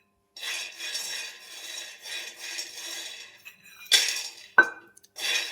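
Peanuts being dry-roasted in a kadhai, stirred so the nuts rattle and scrape against the metal pan in a steady rasping clatter, broken near the end by a few sharper clinks.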